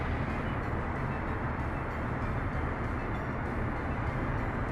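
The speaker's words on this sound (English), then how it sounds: "I think it's because this gravel train's just coming through here right now" Gravel train rolling through in Workers & Resources: Soviet Republic, a dense, steady rumble filling the whole stretch without letup, loud and unbroken.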